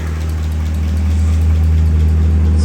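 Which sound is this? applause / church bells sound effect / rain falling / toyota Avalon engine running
toyota Avalon engine running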